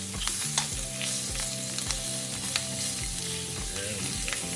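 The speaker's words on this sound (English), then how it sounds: "Let's go ahead and get our shrimp in there before my butter get too dark." Shrimp sizzle as they saute in melted butter in a hot pan, a steady close frying hiss with soft scrapes and clinks as they are stirred in, no talking.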